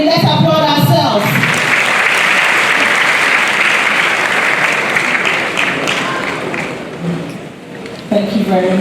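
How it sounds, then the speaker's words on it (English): An audience at a graduation ceremony applauds in a sustained, loud burst of clapping that fills the space, tapering slightly near the end before a voice resumes. "Let's applaud ourselves."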